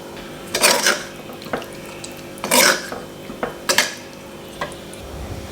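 Garlic being mixed into a pot of homemade garlic pickle, with several loud metal spoon clanks and scrapes against the pot, separated by quieter stirring and pauses, with no talking.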